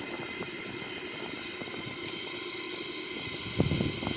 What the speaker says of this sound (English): here we go, the engine is start. This is the right wing engine.